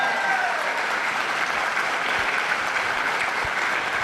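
A crowd gives grand, heartfelt applause in honor of a respected leader at a Telugu business camp gathering, steady dense clapping filling the room without pause for about four seconds.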